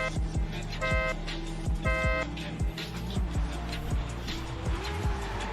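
A Ferrari drifts on the Okayama circuit in a racing video game, its engine roaring loud and continuous through repeated revs, with tire squeal layered over the steady drone.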